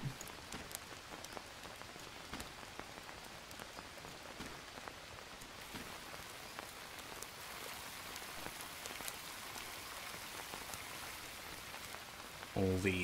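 Steady rain falls in the jungle survival video game Green Hell, a constant dense patter of drops on surfaces throughout, fairly faint, with a brief burst of another sound right at the end.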